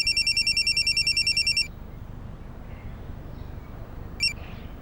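An incoming call makes a mobile phone ring in a rapid series of bright, evenly spaced electronic beeps for over a second. Quiet room tone follows, then one short beep burst near the end.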